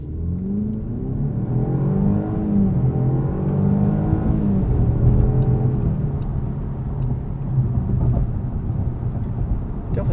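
2021 Jaguar XF P300 with a turbocharged four-cylinder in sport mode, pulling hard through rising and falling rev sweeps as it shifts up, a loud, continuous engine drone heard from inside the cabin.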